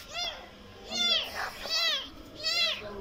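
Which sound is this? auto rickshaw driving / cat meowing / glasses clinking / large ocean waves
cat meowing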